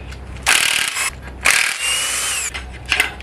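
A tool spinning off the 14mm bolts on a Toyota engine's timing cover and belt tensioner, heard as three loud, close whirring bursts separated by short pauses.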